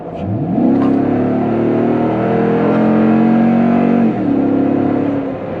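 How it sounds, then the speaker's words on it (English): Heard from inside the cab, a 2021 Toyota Tundra's aFe Mach Force-Xp aftermarket exhaust roars loudly as the engine revs up at full throttle, a throaty drone climbing in pitch, with a brief dip before rising again. "let's see what it sounds like from inside the truck at full throttle"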